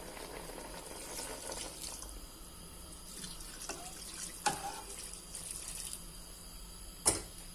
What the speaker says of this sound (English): So let's just go ahead and add the water.